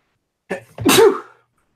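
A single sharp human sneeze with a short breathy intake just before it, close and loud, followed by silence.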